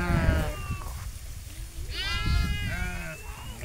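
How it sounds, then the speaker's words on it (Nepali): Sheep on a Nepali sheep farm bleat repeatedly as they head out to graze, with wavering close calls over shuffling and some voices. "यो भेडाहरू अब चर्नलाई जाँदैछ।"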